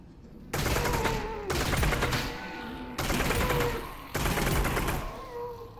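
Bursts of gunfire from a new gun in the VR game Half-Life: Alyx, four loud sustained volleys separated by short gaps, close and dominant with no talking.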